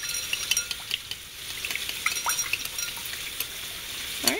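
A spoon stirring teriyaki sauce ingredients together in a bowl or pot: scattered light scraping and clinks of utensil against the container, fairly quiet and close, with no talking.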